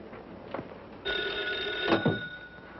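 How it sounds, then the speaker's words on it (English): An old telephone bell rings once in a sustained, bright trill lasting about a second, clear and fairly close in a quiet room. "Excuse me, I'll have to get the phone."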